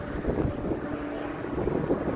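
Wind at Marina Bay Sands in Singapore buffets the microphone in a continuous low rumble, loud and close, with no clear speech over it.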